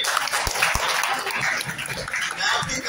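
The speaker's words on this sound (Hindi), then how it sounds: "तालियों की गूंज में" Audience applause rises as a guest is honored at an anti-dowry lecture gathering in Zaheerabad, a busy, crackling wash of clapping with a couple of sharper, louder claps early on.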